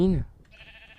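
A loud, short sheep bleat in a video game bursts out at the start, then fades into a quiet background hum for the rest.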